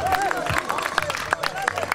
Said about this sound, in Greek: Ένα χειροκρότημα για την προσπάθεια των παιδιών.